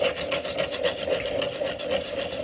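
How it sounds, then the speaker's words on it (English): An X-Acto hobby knife blade being sharpened at an angle, giving a steady, close scraping rasp that repeats in short, even strokes, alone with no talk. "put it on an angle here, and sharpen it up."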